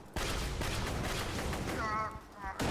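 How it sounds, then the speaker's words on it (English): Video game combat sounds are heard: dense, rapid gunfire-like bursts from a grenade thrown during play, fairly faint, with a brief voice partway through. "Throwing grenade."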